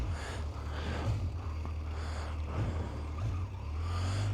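Motorcycle engine running steadily close by, a low idling rumble with slight revs rising and falling, no talking over it.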